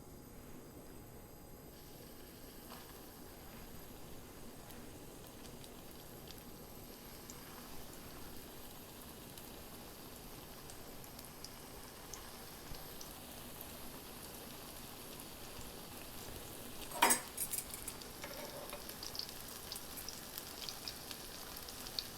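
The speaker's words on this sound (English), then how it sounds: "The oil is hot and I'm going to place the cutlet into the oil." Goan-style shrimp cutlets shallow-fry in hot oil with a steady, soft crackling sizzle that runs throughout and grows busier later, with a brief sharp pop partway through.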